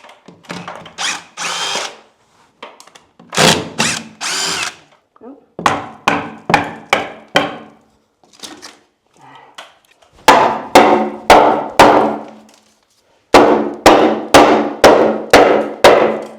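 A top shelf is hammered off a wall during a farmhouse remodel, producing loud, close, rapid bursts of hammer blows in groups, separated by short pauses, with no talking.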